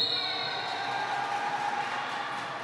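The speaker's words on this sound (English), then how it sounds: "Can I get some applause for Bear City?" Roller derby crowd at a Dublin Roller Derby B versus Bear City B bout cheers and claps for Bear City, a steady, dense roar that fills the venue without a break.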